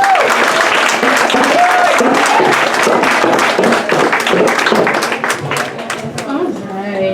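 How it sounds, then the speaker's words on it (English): Sustained, loud applause from a crowd at a community fashion show celebrating a learning institute's 40-year history. Voices and scattered cheers rise over it, and it eases slightly near the end. "let's give Mama Olavisi another round of applause"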